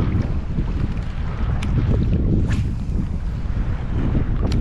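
Strong wind buffets the microphone in a continuous low rumble while wade fishing in open water in Galveston Bay, with faint splashy movement and a couple of light ticks, no talking.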